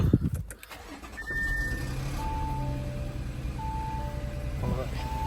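Audi supercharged V6 car with a misfire fault cranks and catches, then settles into a steady idle close to the microphone, with a few electronic beeps and a voice speaking around it.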